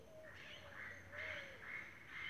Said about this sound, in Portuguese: os pássaros fazendo a festa